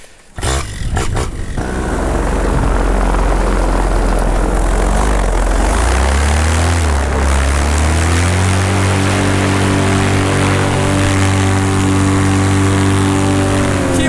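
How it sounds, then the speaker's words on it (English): A paramotor's engine and propeller run in flight over the Nevada wilderness, a loud, steady droning roar that rises in pitch and settles into a constant tone after the first seconds. "my engine is running so much smoother with that prop tape off"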